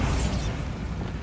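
A Bombarda spell explosion in the fantasy video game Hogwarts Legacy: a short, loud, boomy blast with a rushing hiss that fades within about a second.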